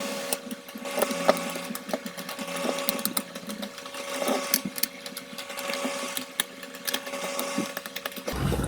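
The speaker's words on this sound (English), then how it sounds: "So I'll go ahead and remove the screws." Screws are being removed from Furibee VR-01 FPV goggles, heard as close, busy clicking and light mechanical rattling over a faint steady hum, continuous for several seconds.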